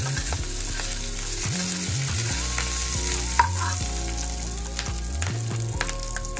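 Green chili, panch phoron and hing tempered in hot oil for a fish curry, a steady close sizzle and crackle under a low continuous background hum, no voices.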